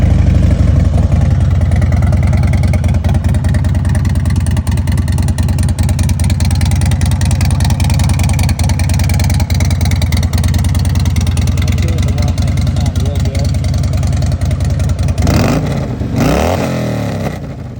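A 2004 motorcycle engine runs loud and close for most of the stretch, a steady rough drone with slight revving, then a clattering shift near the end as it cuts off.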